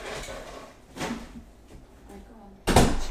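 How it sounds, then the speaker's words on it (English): A door being shut indoors, a sudden loud broadband thud near the end after quiet room tone with faint movement. "Right, so shut the door."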